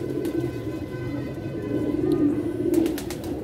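Pigeons coo steadily at close range, a low throaty murmur that swells slightly toward the end, with a few faint clicks and rustles over a soft background hum.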